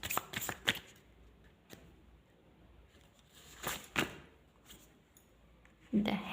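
Tarot cards drawn and handled at close range, with soft quick riffles and card slaps in short clusters between quiet pauses, faint overall.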